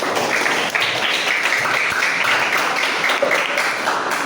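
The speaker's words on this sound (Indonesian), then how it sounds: "Kita kasih aplaus." Students in an Islamic school classroom applaud a classmate's Quran recitation with sustained, fairly loud clapping from many hands, an even wash of claps with no talk over it.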